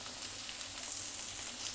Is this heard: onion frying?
yes